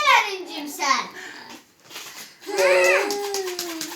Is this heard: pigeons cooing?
no